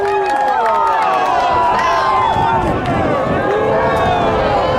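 Loud crowd at a rugby match in Tucson, Arizona, roaring and booing the referee after a disallowed try and penalty, a dense sustained wash of voices with a commentator talking over it.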